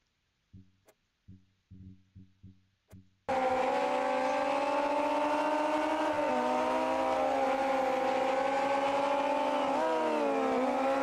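Race car engine in the Automobilista 2 racing game, a sustained loud high-revving drone with shifting pitch that starts abruptly after a few short, clipped engine bursts and holds steady to the end.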